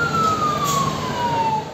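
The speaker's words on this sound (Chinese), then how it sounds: "消防车一辆接着一辆赶赴现场" A fire truck siren wails close by as trucks arrive at a burning three-storey house, one loud steady tone sliding slowly downward over engine rumble.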